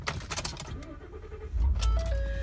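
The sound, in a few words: 2014 Ford F-150 FX4 truck engine starting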